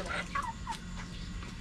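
Backyard chickens cluck softly and briefly at feeding time, faint and close, a few short calls over a low background.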